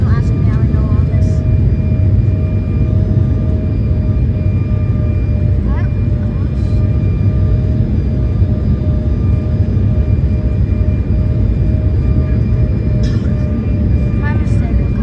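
An Embraer ERJ-175 jet airliner on its landing roll, heard from inside the cabin near a window as a loud, continuous engine and rumbling roar with faint tones on top, while a voice speaks over it.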